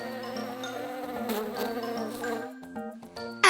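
A bee buzzes in a short, wavering drone that rises and falls over about three seconds, clear and close, and ends abruptly.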